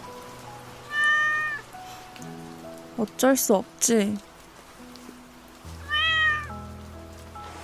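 A cat meows several times, short plaintive cries spaced apart, over a steady patter of rain, with a person speaking softly between the meows.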